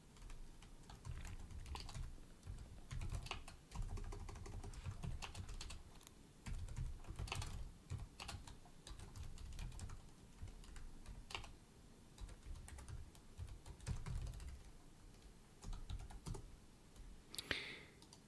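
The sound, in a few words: typing on a computer keyboard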